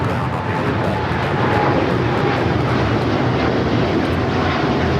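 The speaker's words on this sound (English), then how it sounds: "United Dreamliner headed out to Tokyo Narita." A United Airlines Dreamliner jet departing for Tokyo Narita at LAX, a loud, steady broadband engine roar that swells slightly as it continues without a break.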